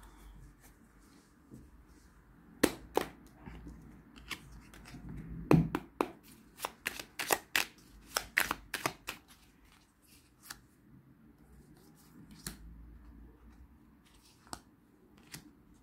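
Tarot cards are shuffled by hand in quiet, close surroundings, giving a run of sharp riffling flicks and soft slaps that cluster in the middle and thin out toward the end.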